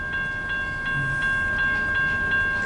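A long CN westbound mixed manifest freight train rolls past with a continuous heavy rumble, sustained tonal whine and regular clicking wheel beats, loud and close.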